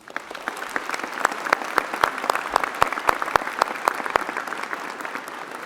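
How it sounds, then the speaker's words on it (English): Steady applause from an audience at a Sheridan graduation ceremony for a pianist, many hands clapping evenly and fairly close with no talking. "Can you please join me in a round of applause?"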